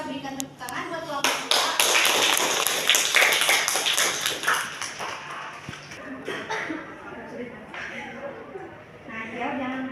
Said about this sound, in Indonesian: kita berikan tepuk tangan buat kelompok